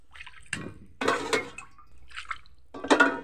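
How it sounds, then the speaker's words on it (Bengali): Broth is poured into meat cooking in a pot, coming through as a few separate bursts of splashing liquid and bubbling, close and moderate in level, with quiet gaps between pours and no talking. "এই যে ঝোল দিয়ে দিলাম।"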